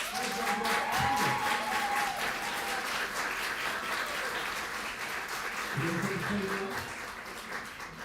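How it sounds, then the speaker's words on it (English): Audience at a forum applauding for a speaker, a sustained, even round of many hands clapping with a voice speaking briefly over it at the start and again near the middle. "Ladies and gentlemen, can I have another round of applause"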